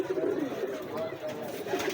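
A pigeon perched in a pigeon-keeping setting coos in soft, repeated low rolling tones, with faint voices and other birds murmuring in the background.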